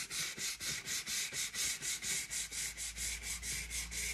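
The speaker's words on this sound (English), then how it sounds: "Gentle sanding, really gentle." Gentle hand sanding of a painted surface: quick, even back-and-forth rasping strokes, about four per second, close and moderately quiet, with no voices.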